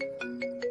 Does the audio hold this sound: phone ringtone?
yes